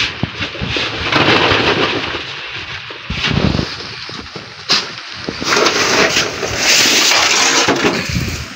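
Heavy rain pours in surging bursts during preparations for a strong typhoon, a loud, dense wash of noise that swells and eases in uneven gusts throughout, with brief heavier pulses and no voices.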